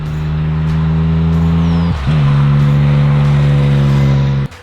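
Loud, steady exhaust drone of a 2018 Can-Am Spyder F3-S three-wheeler under acceleration, holding a constant pitch, dipping sharply for a brief gear change around midway, then resuming strongly before cutting off abruptly.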